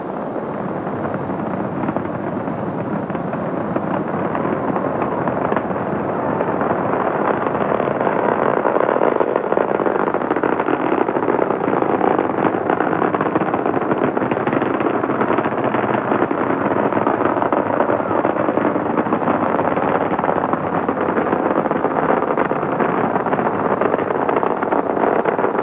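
Space Shuttle Discovery's rocket engines roar during the 1989 STS-29 launch as it clears the tower, a loud, continuous, broad rumbling roar that swells slightly and holds steady, heard from a distance with wind buffeting the microphone.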